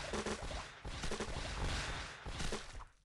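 A disco ball and rocket combo effect fires in the Toon Blast puzzle game, a dense, crackling rush of rapid popping bursts that stays full for about three seconds and then trails off.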